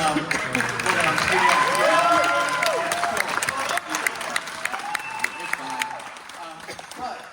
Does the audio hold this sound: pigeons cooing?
no